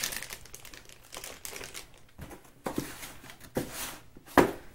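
Paper packaging and leaflets crinkle and rustle while a Lenovo IdeaPad G50-30 laptop is unboxed, in close, irregular bursts of crumpling with a sharper crackle near the end.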